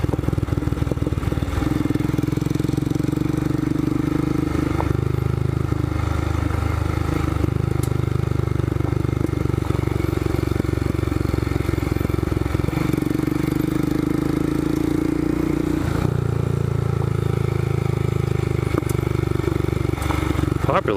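A Royal Enfield Scram 411 motorcycle rides over a rocky trail scattered with loose stones, its engine droning steadily up close with small shifts in throttle and faint clatter over the bumps.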